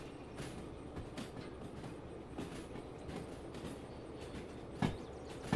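A freight train in Derail Valley rolls along the rails with a continuous low rumble and rhythmic clickety-clack joints, plus a few brief metallic squeals near the end.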